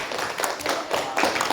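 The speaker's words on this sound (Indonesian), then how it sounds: "Tepuk tangan dulu untuk kelompok 3" A class claps for a student group in a school lesson, a brief burst of scattered hand claps from several people close by, rising again near the end.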